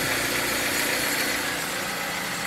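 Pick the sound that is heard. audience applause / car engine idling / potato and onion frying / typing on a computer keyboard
car engine idling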